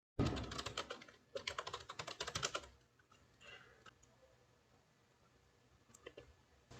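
Fingers type a passphrase on a computer keyboard: a quick, close run of clicking keystrokes for about two and a half seconds, then a few scattered, fainter taps against quiet.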